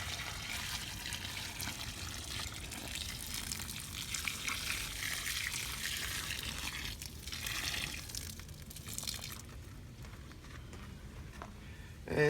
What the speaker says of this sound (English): Just water this one in.